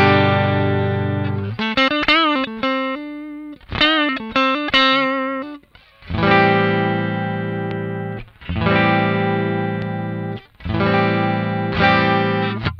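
Electric guitar through a Wampler Tumnus Deluxe overdrive pedal switched to buffer mode into a clean amp: a run of picked single notes, then several full strummed chords left to ring, close and clear with no talking.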